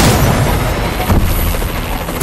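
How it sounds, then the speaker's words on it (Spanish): A continuous roar of loud booming rumble from an airstrike bombardment in Call of Duty: Advanced Warfare, with dense low explosions blending into a constant wall of noise. "Bombardeo aliado en curso"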